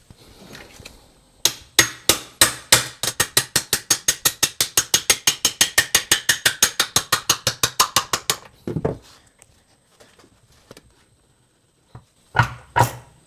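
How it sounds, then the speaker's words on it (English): A long run of rapid, evenly spaced mechanical clicks like a ratchet, then a heavy metallic clunk as a Triumph TR4 gearbox countershaft drops out, followed by a few scattered knocks. "you could hear that drop, and that's the countershaft"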